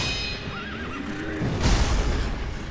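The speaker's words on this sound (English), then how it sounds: "Oh, fucking horse." A single shrill whinny from a horse in the video game Sekiro, wavering up and down, followed by a heavy thud and scraping impact noise, with no talk.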